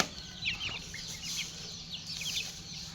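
Chickens kept on a farm cluck and squawk in short bursts over a steady low background hum, several birds heard at moderate distance, with no voices.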